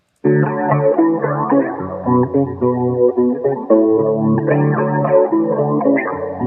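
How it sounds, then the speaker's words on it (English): Heavily phased electric guitar drenched in echo and chorus, playing a sustained, continuous chordal passage with swirling, shimmering tone, loud and close, with no talking. "let me play this phased guitar for you so you can see what it sounds like"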